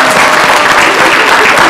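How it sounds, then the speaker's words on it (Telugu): Audience at a television game show applauding a team of girls, a loud, dense, continuous wash of many hands clapping at once, close and steady throughout. "గట్టిగా క్లాప్స్ అందరూ ఒకసారి గర్ల్స్ కోసం."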